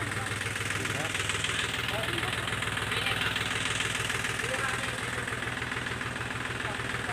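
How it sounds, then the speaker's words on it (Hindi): Tractor engine idling on a rural farm, a steady low rhythmic chugging with a knocking pulse that runs unbroken throughout at moderate distance. "अभी आया है ट्रैक्टर, मतलब दूसरा ट्रैक्टर लाए हैं"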